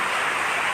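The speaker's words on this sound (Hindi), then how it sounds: "देखें मंजर है बारिश का, बाहर नहीं निकल सकते भैया" Heavy rain pours down outdoors in the Korangi area, a dense, steady hiss of falling water that fills the whole short stretch with no voices over it.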